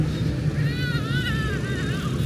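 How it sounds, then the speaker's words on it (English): Motorbikes buzz continuously along a Nha Trang street, a dense close traffic drone with a higher engine whine rising and falling over it. "some noisy motorbikes."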